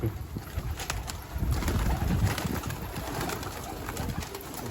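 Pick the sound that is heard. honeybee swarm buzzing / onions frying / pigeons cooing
pigeons cooing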